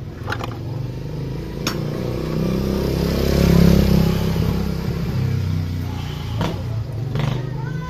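A Honda ADV 150 scooter with a faulty torque drive bearing runs nearby, its engine droning and swelling slightly mid-way with rattling clatter and a few sharp clicks over the idle.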